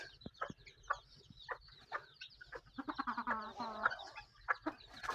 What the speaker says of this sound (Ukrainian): Квочка з курчатами буде виходити.